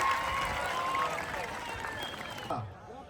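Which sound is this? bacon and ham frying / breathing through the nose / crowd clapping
crowd clapping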